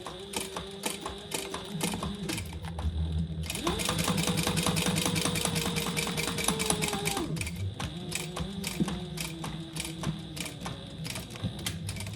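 A sewing machine runs a 1/8 inch topstitch on a fabric eyeglass pouch. The motor hums close and steady, with a rapid, even needle patter and short pauses between runs.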